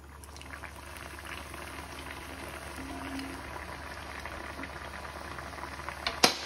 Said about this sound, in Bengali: এখন আমরা ভেজে নিচ্ছি, আর ভাজাটা দেখাচ্ছি আপনাকে